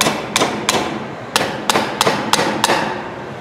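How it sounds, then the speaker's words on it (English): Hammer giving light taps on engine valves during cylinder head service: about seven sharp metallic taps at uneven intervals, close and clear over quiet background. "Now take a hammer, give it a light tap on each of the valves."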